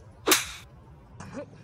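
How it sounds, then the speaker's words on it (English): A freshly caught smallmouth bass slapping on a boat after a fishing catch: one sharp, loud wet smack followed by a fainter second slap about a second later, with no talking. "Fish slapped."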